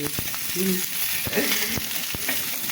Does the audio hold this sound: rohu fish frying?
yes